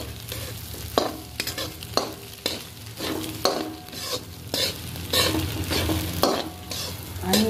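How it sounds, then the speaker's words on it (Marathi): Potatoes and crushed peanut powder sautéed with green chilies for sabudana khichdi, with a steady sizzle under repeated scraping strokes of a spoon stirring through the pan, close and continuous, no talking. "तर आपण परतून घेऊया"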